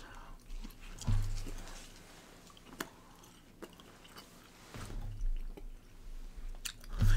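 A piece of gum is chewed close to the microphone with soft, wet, squishy bites that recur every few seconds at a low level.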